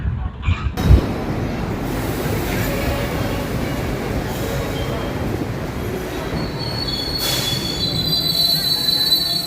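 A passenger train on the Trichy to Chennai line rolls along with steady, loud rumbling and wheel noise, broken by high, shrill wheel squeals that ring out close by toward the end.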